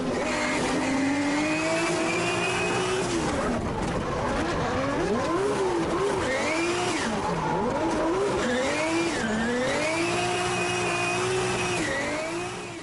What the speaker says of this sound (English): James Abbott gave us one of the coolest overtakes of the weekend. Let's see that from in the car.